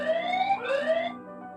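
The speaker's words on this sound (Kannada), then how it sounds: "ಈ ರೀತಿ ಸೈರನ್ ಆಗುತ್ತೆ ಫ್ರೆಂಡ್ಸ್" A CP Plus EZP31 CCTV camera sounds its built-in alarm siren, a loud, close electronic wail that sweeps up in pitch twice before settling into a steadier tone, with nobody speaking.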